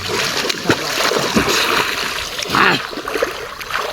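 Someone jumps into the water of a dam reservoir while swimming outdoors, sending up a couple of sharp splashes amid steady churning and lapping water nearby.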